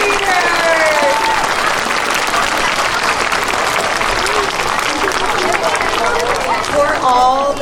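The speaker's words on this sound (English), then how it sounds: "Let's give one more round of applause to our fourth graders." A school assembly audience applauds fourth graders with loud, sustained clapping from a crowd, mixed with cheering voices throughout.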